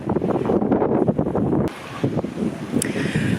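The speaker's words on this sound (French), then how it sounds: "J'espère que vous m'entendez parce qu'avec le vent qui fait." Strong wind blows outdoors in an autumn garden, buffeting the microphone with loud, gusty rumbling that eases briefly midway before picking up again, with a faint high tone near the end.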